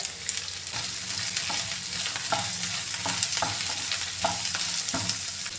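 Onion and green chilies fry in a pan for a Kerala-style beans stir fry, a steady close sizzle broken by repeated scraping and stirring knocks of a spoon, with no talk.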